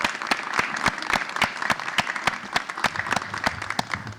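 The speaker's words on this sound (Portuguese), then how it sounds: "Salve de palmas pra Maria Luísa enquanto isso" Applause from a live podcast audience welcoming a guest poet, with distinct sharp claps spaced through a steady patter of hands, fairly close and lively, no voices over it.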